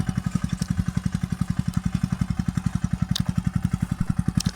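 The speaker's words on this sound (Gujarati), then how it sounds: "સનેડો ટ્રેક્ટર આમ પોગી ગયું છે." A Sanedo jugaad tractor, a farm-built vehicle rigged with a two-engine setup, runs steadily close by with a fast, even thudding exhaust beat and a faint rattle, and no voices.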